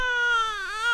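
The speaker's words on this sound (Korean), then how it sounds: "그리고 당연하게도 아기가 울기 시작했다." A baby cries in a crib in a dark nursery as a sound effect in a narrated story, a short, loud, close wail with a wavering pitch that dips and rises again.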